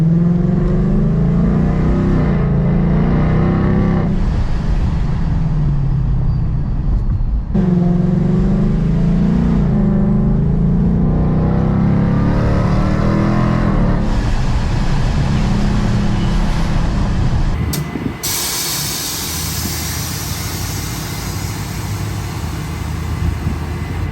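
A bagged, boosted 5.0 Ford Mustang rumbles and revs from inside the car, its deep engine rising and falling in several throttle swells over road noise, then easing to a lighter hum near the end.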